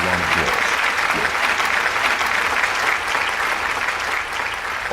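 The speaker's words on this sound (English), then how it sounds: "Give a round of applause" A studio audience at a talk show breaks into loud, sustained applause, steady dense clapping that carries on for several seconds before easing slightly at the end.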